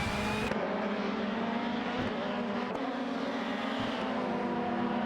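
Race car engines in an AI-driven racing game, including a Nissan Primera and Peugeot 406, roaring continuously at high revs as a dense, loud pack with brief gear-shift dips.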